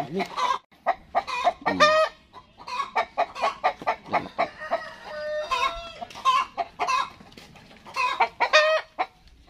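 Rhode Island Red crossbreed chickens cluck and chatter in a farm yard, with repeated squawks, rising calls and a rooster-like crow mixed among the flock at moderate distance.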